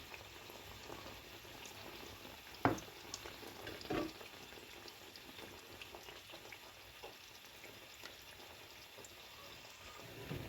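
Neyyappam deep-frying in hot oil as oil is spooned over the tops, a steady low bubbling sizzle with a couple of sharper clinks or splashes, close and alone.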